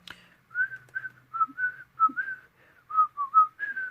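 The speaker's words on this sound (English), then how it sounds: "can you whistle?" A person whistles a short, wavering tune of about a dozen notes, close and clear, with near silence around it.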